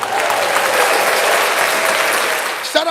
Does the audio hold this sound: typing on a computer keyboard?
no